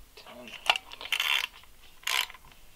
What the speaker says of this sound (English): Next thing you're going to do is you're going to take out all of these 8mm bolts.